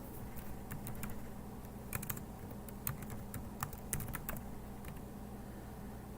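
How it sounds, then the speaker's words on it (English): Someone typing on a computer keyboard, soft scattered keystroke clicks over a steady background noise, faint and at a moderate distance. "I know Howie's probably typing it, and I'm going to Google it too"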